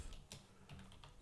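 Quiet typing on a computer keyboard, a quick run of soft, close keystroke clicks with no talking.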